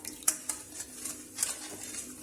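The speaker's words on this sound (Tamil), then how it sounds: "சர்க்கரைய நல்லா கரைச்சு விட்டுக்கோங்க." Sugar dissolving in water in a pan as syrup is stirred, with light scraping and clinking of a utensil against the pan, soft and intermittent, with no voices.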